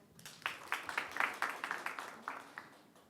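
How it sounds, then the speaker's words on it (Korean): Audience applause at a corporate project launch ceremony, a brief burst of scattered claps from a seated crowd, fairly faint and distant, swelling briefly and then thinning out to a few last claps. "여러분 박수 부탁드립니다"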